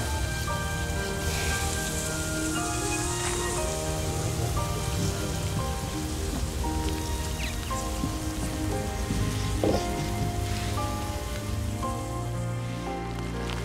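Steady rain pours where flocks of birds are landing in Brazil, a dense continuous hiss with scattered drops, while faint bird calls and chirps rise through it close by.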